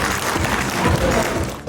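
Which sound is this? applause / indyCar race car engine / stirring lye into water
applause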